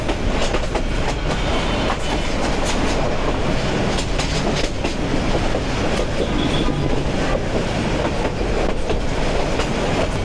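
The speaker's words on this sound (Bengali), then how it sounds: "এদিকে হচ্ছে ট্রেন চলতেছে" Balaka commuter train of Bangladesh Railway running along the line, a loud, continuous rumble with rhythmic clickety-clack of wheels over rail joints and occasional squeals, heard close throughout.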